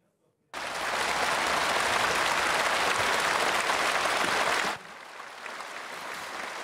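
Loud, dense applause from a standing ovation by nearly 3,000 deputies bursts in suddenly and holds steady, then drops to a quieter, continuing clapping.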